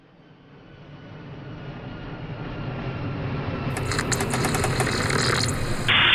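Fixed-wing airplane coming in to land, a steady engine roar that builds gradually from faint to loud and closer, with a brighter high-pitched whine joining near the end; no talking.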